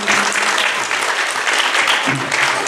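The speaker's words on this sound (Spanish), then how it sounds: "Un aplauso a la maestra." Audience applauding a dance teacher at a DIF Gómez Palacio folk dance event in Durango, a steady dense clapping that fills the whole stretch with a brief low voice near the end.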